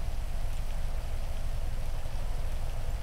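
Steady rain falling in the GTA 5 video game, an even, continuous hiss of drops on surfaces with no talking.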